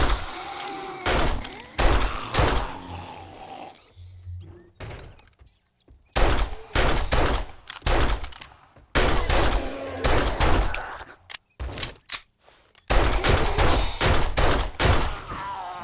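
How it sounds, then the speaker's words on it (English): A gun fires in 7 Days to Die, with loud, close shots coming in clustered volleys separated by short silent gaps, some bursts sharp and rapid, others spaced out. "Might as well use the gun now"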